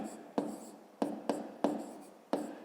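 Pen or chalk strokes while numbers are written out during a fifth-grade maths lesson, five short scratchy taps spaced irregularly, close and fairly quiet with no talking.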